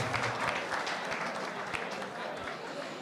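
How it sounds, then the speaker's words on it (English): Talk show audience applauding a band, a steady wash of clapping at moderate volume, with a voice speaking over it. "give it up for this super cool band, ladies and gentlemen"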